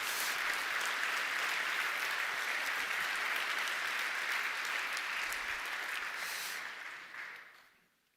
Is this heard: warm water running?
no